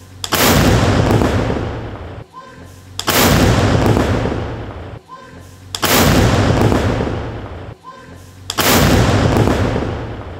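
The Sarang artillery gun is test fired in Jabalpur, with four loud, booming shots at steady intervals, each followed by a long, rumbling decay.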